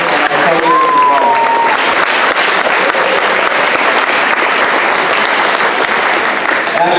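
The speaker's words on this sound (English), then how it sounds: "Clap it up for our football boys and our coaches as well." Loud, dense applause from a high school homecoming crowd cheering the football players and coaches, steady and sustained throughout, with a brief tone near the start.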